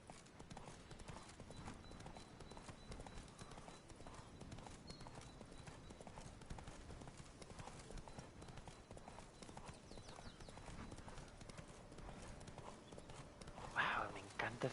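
Horse hooves clip-clop steadily and rhythmically in The Witcher video game, a continuous trotting beat at moderate level, with a brief louder sound near the end.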